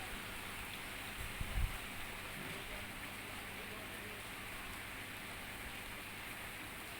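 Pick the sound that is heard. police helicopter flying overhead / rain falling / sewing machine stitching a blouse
rain falling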